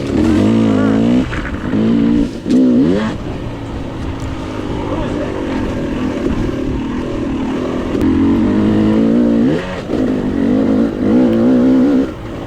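A KTM 300 two-stroke dirt bike races fast through pine woods in a Blue Ridge Mountains hare scramble. The engine drones loud and close with repeated revs and throttle surges, and a voice talks over it.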